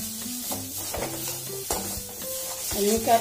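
Spice masala frying in a pan and being stirred, a soft continuous sizzle with scraping spoon strokes, heard close and without talking.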